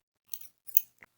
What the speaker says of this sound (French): On vient couper un petit peu pour que ça reste bien dessous le bouton